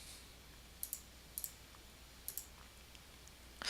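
Several faint, crisp computer mouse clicks land on an OK button in an email merge program, spaced in quick pairs over a quiet room hum, with a slightly louder click at the end.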